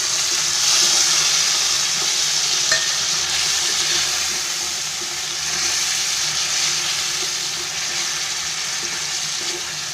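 Curry leaves and tomatoes frying in a pan for dal khichdi: a steady, loud, close sizzle with a hissy spitting texture that runs unbroken for the whole stretch.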